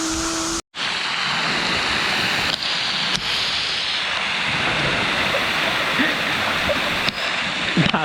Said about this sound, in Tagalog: This is the other side of the waterfall.